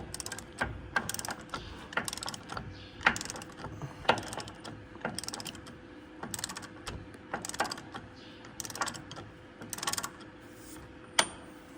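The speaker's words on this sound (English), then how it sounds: "I'm going to take the top bolt out" Wrench or ratchet clicking while the top bolt comes out of a Gleaner R72 combine final drive, a steady run of sharp metallic ticks and ratchet strokes, fairly close, with no talking.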